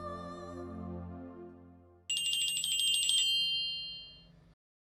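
A phone ringtone starts abruptly partway through, a bright, warbling electronic tone that plays loudly for about two seconds after soft music fades.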